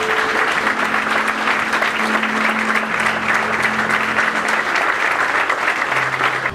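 A church congregation applauds together in steady, dense clapping that fills the room from start to finish, with a faint sustained tone underneath, probably from an organ or keyboard.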